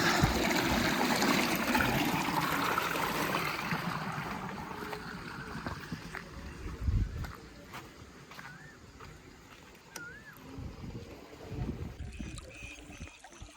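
Irrigation water for a maize field rushes and gurgles steadily through a field channel, loud at first and then easing, with a few scattered clicks and bird-like chirps over the flow.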